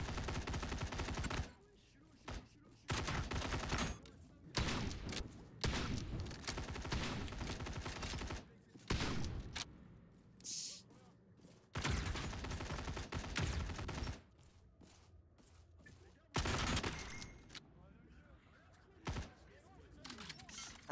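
Rapid gunfire bursts from the video game EVA, repeated volleys of shots separated by brief pauses, loud and close, with voices talking at times between and under the shooting.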